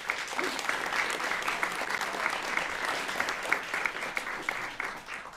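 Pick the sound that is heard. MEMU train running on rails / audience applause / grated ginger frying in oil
audience applause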